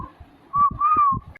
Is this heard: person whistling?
yes